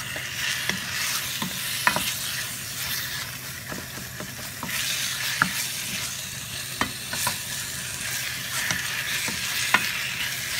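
Chicken stirred in a pan with onion, garlic and ginger for tinola, a steady sizzle of frying under repeated clicks and scrapes of the spoon against the pan, close and continuous, with no voices.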